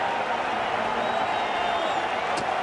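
Cricket crowd at a 2019 World Cup match between Bangladesh and Sri Lanka cheers loudly and steadily, a dense continuous roar with scattered whoops and clapping, broad and fairly close throughout.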